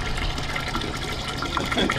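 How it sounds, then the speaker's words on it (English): Water gushes steadily into a brewing kettle for steeping grains, a continuous close pouring and splashing sound over two seconds with no talk. "What we're gonna do now, we're gonna add the water for the steeping grains."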